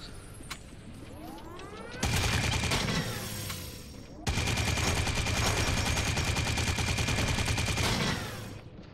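Sustained rapid automatic fire from a Gatling gun in the video game Drawn to Death, loud dense bursts with a brief pause between two long strings of shots, close and dominant.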